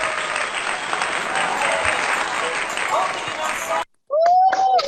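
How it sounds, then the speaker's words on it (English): Loud, steady audience applause welcoming a speaker at a business gathering, sustained clapping that cuts off sharply near the end, followed by a voice. "With a rousing welcome, let's applaud SD Ijeoma Chukwu."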